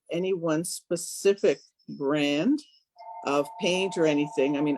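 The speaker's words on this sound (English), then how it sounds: "sorry about the phone" A telephone rings with a steady electronic tone that starts partway through and continues beneath a person's ongoing talk.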